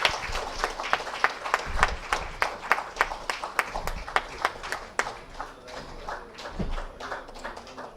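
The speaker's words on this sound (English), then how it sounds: "A big round of applause for both of them." Audience at a 2023 Samagam event clapping: a steady run of sharp, fairly close hand claps that thins out and fades toward the end, with no talk over it.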